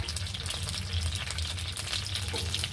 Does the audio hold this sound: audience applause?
no